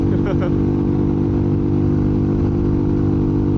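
A bored-up Yamaha Jupiter MX 155 motorcycle engine runs on a dyno, a loud, steady, close mechanical drone held at constant revs, with a brief voice near the start.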